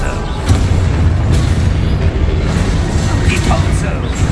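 A spell explosion in a Hogwarts video game gives a booming burst with a short crackling tail. It sits among other game effects and background sound.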